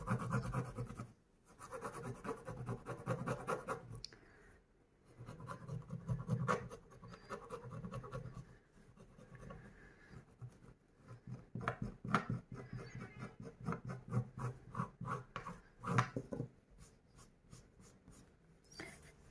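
Steady scratchy snipping and rasping of scissors through paper pattern pieces for sewing a bag, in uneven bursts with brief pauses between stretches of cutting.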